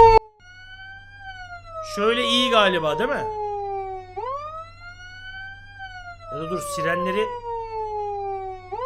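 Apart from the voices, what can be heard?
emergency vehicle siren in the video game Flashing Lights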